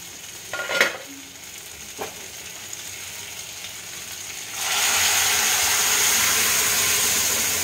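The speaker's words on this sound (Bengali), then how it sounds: "এবার আমি লাউ আর ডাল, যেটা আমি প্রেসারে সেদ্ধ করেছি, আমি এটা ঢেলে দেবো।" Pressure-cooked bottle gourd and lentils are poured into a hot pan with fried bitter gourd: a few quiet clinks, then a sudden loud, steady sizzling hiss that persists to the end.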